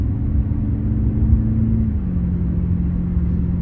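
A BMW 7 Series (G11) engine hums at a steady, low rumbling idle through an exhaust system simulating a Ferrari sound, with a slight shift in pitch partway through, close and continuous.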